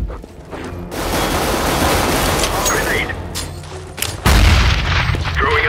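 A flashbang grenade in CS:GO goes off with loud, broad, blasting bursts that fill the clip, including a heavy boom near the end, mixed with game noise and voices talking.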